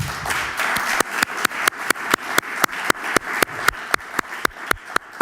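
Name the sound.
audience applause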